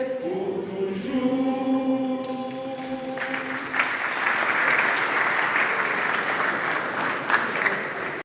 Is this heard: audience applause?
yes